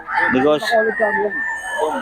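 A rooster crows loudly and close among chickens offered for sale at a market, a drawn-out harmonic call with other fowl clucking nearby.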